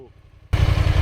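A Pioneer 1000 UTV engine fitted with a 27.5% low gear reduction surges hard as it punches through nasty mud, a sudden loud, broadband roar that starts halfway through and holds steady close to the mic.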